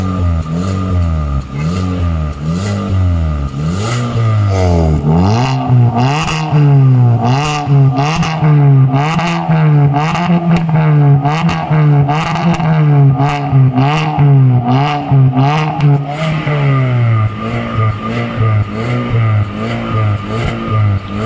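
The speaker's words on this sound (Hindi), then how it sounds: "भैया एक बारी एक्सेलेरेट करना गाड़ी को" A Hyundai Verna fitted with a loud Remus exhaust revs repeatedly, harsh rising and falling engine notes with crackling bursts, very close and loud throughout.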